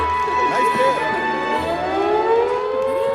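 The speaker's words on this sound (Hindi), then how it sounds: "सायरन की आवाज" A wailing civil defense siren rises and falls loudly, its tone sweeping up steadily, with faint voices beneath it.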